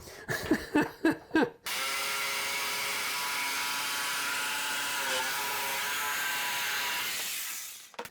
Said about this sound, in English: We're going to cut that out with a jigsaw.